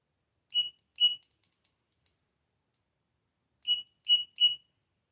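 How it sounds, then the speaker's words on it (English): A tool gives short, loud, high-pitched beeps while work is done on the thermostat of a 2008 GMC Yukon: two beeps, a pause, then three more in quick succession, close, with silence between. "that beep is loud"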